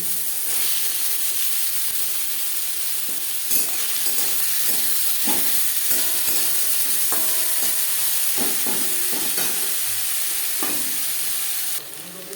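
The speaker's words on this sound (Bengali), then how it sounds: "তিন চামচ সর্ষার তেল গরম করে নিয়েছি এবার দিয়ে দেব আলু" Potatoes sizzle in hot mustard oil, a steady broadband frying hiss with scattered stirring clicks and scrapes from about four seconds on; the sizzle stays loud and close throughout, with no voices.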